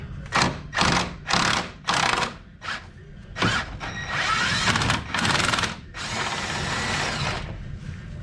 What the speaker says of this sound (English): we got our impact wrench on this side of the bolt